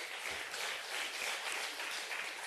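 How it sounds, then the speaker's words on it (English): Audience applause for participants at a gathering, a steady dense wash of many hands clapping at moderate distance, even and sustained with no voices over it. "you deserve a very big round of applause, all of you"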